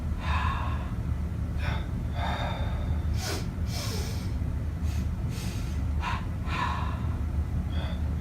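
Sharp double inhales through the nose during meditation breathing practice, several quick sniffing breaths in pairs, close and fairly soft, with no talking.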